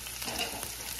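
Hot dogs fry in a pan on the stove over turned-down heat, giving a dense, even sizzle and crackle close by with no pauses.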